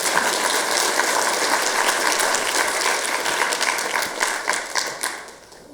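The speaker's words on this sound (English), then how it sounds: "I'll clap for you." Audience applause at a county executive's budget plan presentation, a dense and steady wash of many hands clapping that holds throughout, then tapers off near the end.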